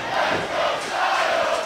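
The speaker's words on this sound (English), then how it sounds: "Dueling chants already." Wrestling arena crowd split into dueling chants at an AJ Styles versus Cedric Alexander match, a steady loud roar of many voices chanting in rhythm, swelling slightly, with no clear single speaker.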